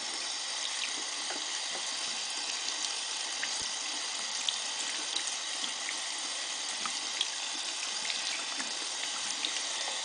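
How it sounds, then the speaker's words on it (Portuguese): A makeup brush is rinsed under a running tap, a steady, even hiss of flowing water from start to finish with no talking. "agora pego no pincel que lavei anteriormente e volto a passar por água."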